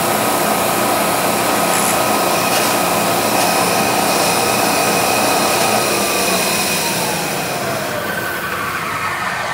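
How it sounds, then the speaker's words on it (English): A drill boring a hole for a Sako rifle extractor, running as a loud, continuous whine and roar close by, with a slight drop in pitch toward the end and no speech. "Don't try to drill the hole all at one time."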